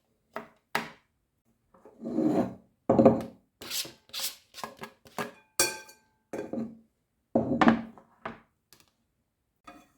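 Hard cheese scraped over a coarse grater makes a close, raspy rubbing in uneven strokes, some short and some longer, with an occasional soft thunk between them.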